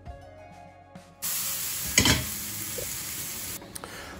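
Whipping cream poured into a simmering chicken ragout with mushrooms, setting off a sudden loud, steady sizzle and hiss that runs for a couple of seconds after a quiet start, with a brief sharper splash partway through.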